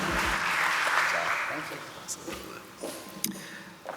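Audience applause at the close of a presentation during a spring student showcase event: dense clapping, loud at first, then thinning and fading over a few seconds, followed by a few scattered sounds and brief voices.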